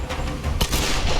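Pistol shots from the Tomb Raider video game amid a dense, noisy game mix, with one sharp report standing out near the middle over continuous background rumble.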